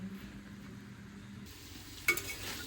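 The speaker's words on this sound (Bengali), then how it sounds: "তার আগে নাড়া দিয়ে নিই, আরও পুড়ে যাবে" Food being stirred in a pan on a low stovetop flame, a soft continuous scraping and sizzle with a brief sharper clink of the utensil near the end.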